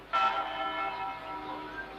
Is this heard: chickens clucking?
no